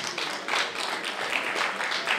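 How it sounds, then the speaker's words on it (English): A crowd at a community union launch and fundraising event applauds for a pastor, continuous dense clapping that holds steady and fairly loud throughout, with faint voices mixed in. "Let's put our hands together for the man of God"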